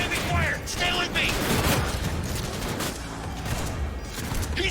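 Heavy burst gunfire rattles through a firefight in the game Cyberpunk 2077, dense and continuous. Voices call out over the shooting, and short tonal effects flicker in the early seconds.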